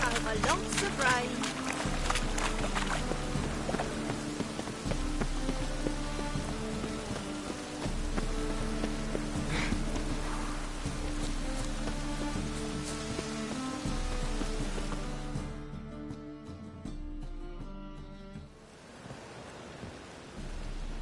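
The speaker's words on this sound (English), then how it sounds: "Lots of rain." Steady rainfall in The Witcher 3 video game, a continuous patter on surfaces beneath a layer of orchestral game music, holding constant before thinning out near the end.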